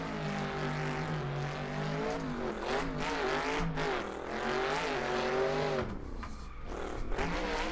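A Corvette-powered Nissan S14 drift car on street tires roars loudly around a drift track, its engine pitch sweeping up and down through repeated revs and shifts, with a brief dip near the end before climbing again.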